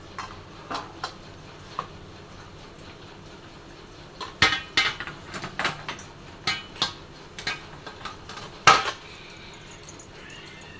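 Cooked vermicelli (shevaya) drained through a metal colander in a home kitchen, with scattered clinks and clatters of utensils and the colander, sparse at first and then a busier cluster of sharp knocks, no talking.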